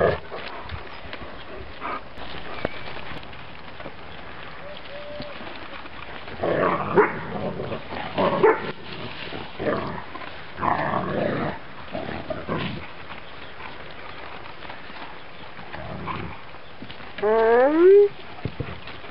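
Wolfdog puppies, seven weeks old, bark and growl in scattered bursts of rough yapping and snarling at close range, with quiet gaps between and a brief higher whine near the end.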